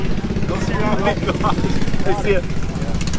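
A John Deere engine idles with a steady low rumble close by at a diesel truck event in the mountains, running continuously beneath people talking.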